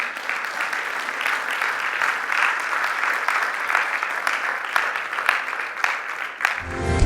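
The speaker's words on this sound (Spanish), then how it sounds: "Denle un aplauso al Señor" Church congregation breaking into sustained, loud applause at the close of a sermon, steady dense clapping that fills the room before cutting off abruptly.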